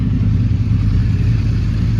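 A 1000cc motorbike engine running steadily at a low, rumbling idle close by, with a continuous throaty drone and no speech.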